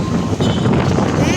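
Strong, gusty wind buffeting the microphone outdoors at Mandara Square in Alexandria on a cloudy, cold, dusty day, a steady loud roar throughout with no pauses.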